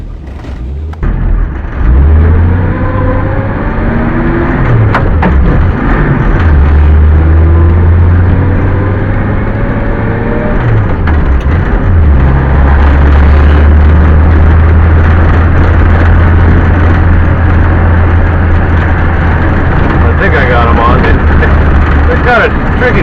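A 1962 Ford Falcon engine runs steadily and loudly close by, its pitch rising and falling as it is driven. A voice talks now and then over the engine.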